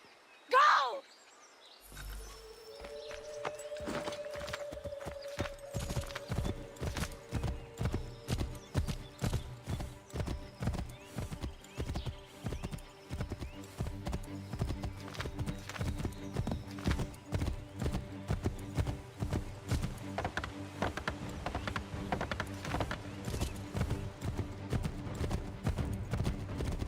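Horse hooves gallop in Assassin's Creed III Remastered, a steady rhythmic clip-clop that runs through most of the stretch, loud and close, with a brief whinny near the start and game ambience underneath.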